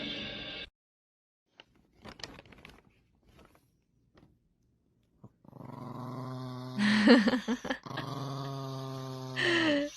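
A dog in a funny animal compilation growls, with short yips and whimpers in between, then longer, louder growling sustained near the end, close by and without speech.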